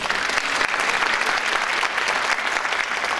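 Steady, dense applause from a concert audience at a Turkish folk music choir performance, a continuous wash of many hands clapping at even loudness throughout, with no voices on top.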